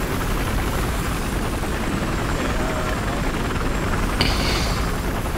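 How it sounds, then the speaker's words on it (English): A helicopter in the shooter game Battlefield Hardline, heard as a steady, loud rotor and engine roar that holds constant throughout, with a brief higher whine near the end. "I don't want to be in the helicopter anymore."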